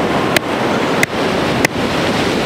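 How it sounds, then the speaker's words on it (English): Ocean surf washes continuously against the shore in a broad, hissing roar, with three sharp bursts of wind buffeting the microphone at regular intervals. "As you can see how dangerous the ocean is, it's trying to attack me."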